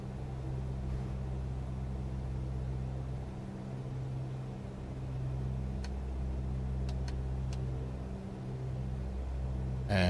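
A light aircraft's piston engine throttled down to about 2000 RPM, a steady low droning hum with a faint rhythmic pulse, continuous and even, heard from inside the cabin without talking.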